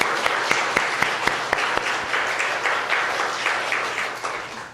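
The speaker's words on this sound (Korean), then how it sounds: "하나님 앞에 우리 큰 감사의 박수를 한번 영광 돌리십시오." A church congregation applauds during a Sunday worship service, a steady wash of many hands with a few sharper, louder claps standing out in a regular rhythm, fading slightly toward the end.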